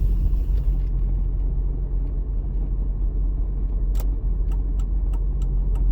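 A car overtaking during a road driving exam, heard from inside the vehicle as a steady low engine and road rumble with a faint passing swell, then a series of rhythmic clicks like a turn indicator.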